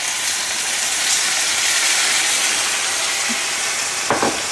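Vegetable broth hits a hot pan and sizzles loudly, a steady bright hiss that carries on throughout, with a short clatter near the end.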